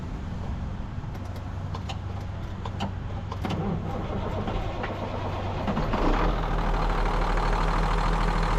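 A truck engine cranks on a faulty starter that has been shorted out, with rough rhythmic grinding and clicks that build into a louder steady rumble as the engine catches and idles, close by.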